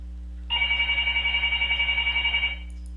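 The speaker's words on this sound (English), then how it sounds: "And the phone rings and rings, and she just lays there." A telephone rings with a rapid, warbling electronic trill lasting about two seconds, close and fairly loud over a steady low hum, then stops.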